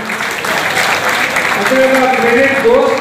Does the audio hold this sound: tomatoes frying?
no